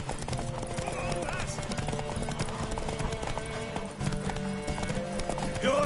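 In The Witcher III, a horse's hooves clip-clop in a steady rhythm alongside an occasional neigh, mixed with game music and character dialogue heard throughout.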